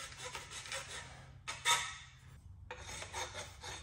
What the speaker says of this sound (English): All I'm trying to do is chamfer the edges.